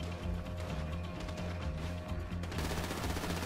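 Rapid automatic gunfire during a Grand Theft Auto V heist mission, a dense burst of repeated shots that continues without a break and grows louder and harsher near the end.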